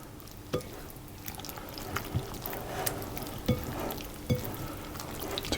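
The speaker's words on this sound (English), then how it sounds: "And then I'm going to add in the leeks and the pancetta and stir that around." Leeks and pancetta sizzle softly in a pan while being stirred, with quiet scraping and a few sharp clicks of the utensil against the pan at irregular intervals, close by and low in level.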